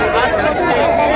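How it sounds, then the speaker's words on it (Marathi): Dense crowd chatter fills a busy Colaba fish market, a continuous babble of many voices close around with no single voice standing out. "गर्दी बघा, गर्दी"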